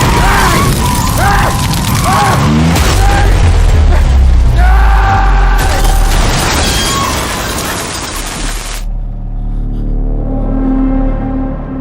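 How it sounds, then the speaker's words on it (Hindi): A car crash in a film scene: loud booms, metallic crunching and shattering debris pile up over a rumbling engine, then give way to a quieter tonal hum as the impact dies down. "सर, अर्जुन सर का एक्सीडेंट हो गया"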